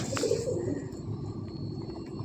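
Soft low cooing from a female Madrasi pigeon in a pigeon loft, a brief murmur near the start with a steady background hum and faint insect chirping throughout.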